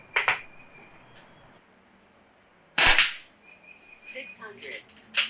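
Umarex Notos PCP air rifle firing 18.3-grain AEA pellets in a backyard: two sharp, loud cracks, one near the start and a bigger one near the middle, with faint clicks and handling noise between shots and no voices.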